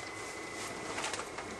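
Bird cooing and calls from the Alan Wake video game, a steady dense chirping wash of pigeon- or dove-like sounds at moderate level, with no talking.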